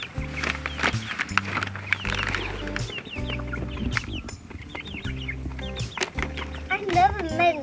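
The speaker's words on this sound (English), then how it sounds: "Cozy the chicken." A small pet hen named Cozy clucks and murmurs close by while people talk over her, near an emu called Richard.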